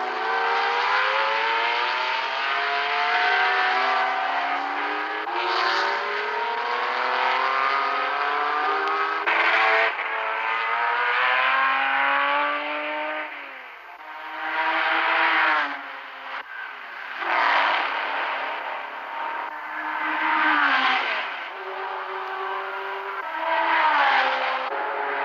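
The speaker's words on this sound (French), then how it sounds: "En GT, duel également entre la Chevrolet Corvette de Greenwood et la Ferrari Daytona de Rouveyran." Racing cars at the 1972 24 Hours of Le Mans, including a Chevrolet Corvette and Ferrari Daytona in the GT class, roar past one after another with rising and falling engine notes and loud passing surges over a continuous engine drone.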